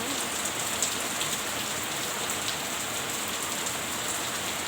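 Unseasonal rain falls steadily over farmland, a dense, even hiss of drops on surfaces that continues unbroken and fairly loud throughout, with no voices.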